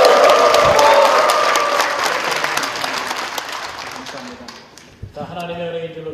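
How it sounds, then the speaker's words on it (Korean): A church congregation at a 74th-anniversary Sunday worship service breaks into loud, sustained applause with shouts and cheers mixed in, then the clapping thins out and fades toward the end. "우리 좀 소리도 한번 치면서 다시 한번 박수하겠습니다."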